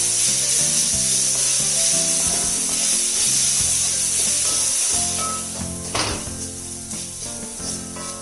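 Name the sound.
stirring in grated coconut while cooking taro leaf stir-fry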